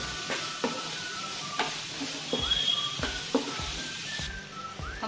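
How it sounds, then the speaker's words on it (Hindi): A spoon stirs fried rice seasoned with black pepper in a hot pan, scraping in repeated strokes over a continuous sizzle. "अच्छे से चलाएंगे"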